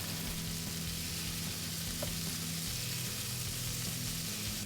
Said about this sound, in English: Add your beef into the smoking pan.